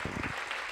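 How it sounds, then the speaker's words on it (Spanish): Congregation clapping during a Sunday morning church service, a brief burst of dense applause that fades quickly into a quieter room. "Dé ese fuerte aplauso al Señor en esta mañana"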